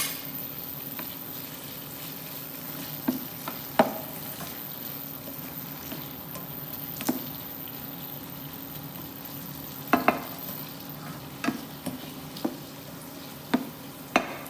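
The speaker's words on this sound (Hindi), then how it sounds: "ज़रा सा प्याज सौते हो जाए" Onions sauté with salt in a pan, a steady close sizzle and frying hiss with occasional sharp clinks of a spoon stirring against the pan.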